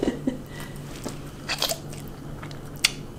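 Late-night noodle eating at a table: a few close, soft bites and crunchy chewing sounds in short irregular bursts over a quiet room hum, with no talking.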